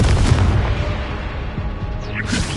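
Bombarda and Confringo blasting spells going off in Hogwarts Legacy: a dense, continuous roar of booming blasts with a brief whooshing rise near the end, loud and close with no pauses.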